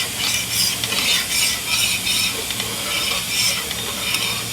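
A dosa sizzles on an oiled pan, with steady crackling frying and scraping stir sounds, close and continuous, no talking.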